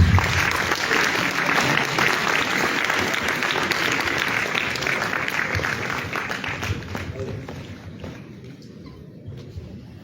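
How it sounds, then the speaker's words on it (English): A large audience at a medical college convocation and annual general meeting claps in a dense, steady round of applause that gradually thins and fades toward the end, with some voices mixed in. "Kindly join me to welcome Councillor Verder with a loud round of applause."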